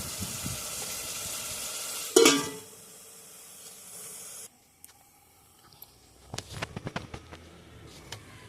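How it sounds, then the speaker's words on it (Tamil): Fish frying in oil in a pan: a loud sizzling burst that cuts off after a couple of seconds, then quieter hissing, followed by a stretch of scattered clinks and scraping noises. "நாங்கள் மீனை பொரிக்கிறதுக்கு தனியாக பொரிக்க வச்சிடலாம்"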